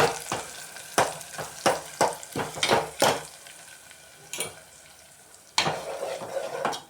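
Cooked spinach greens are stirred in a pot for puli keerai kadaiyal, giving a run of sharp scraping and clanking strokes in a quick rhythm, then a pause, then a few more scrapes with a soft sizzle underneath.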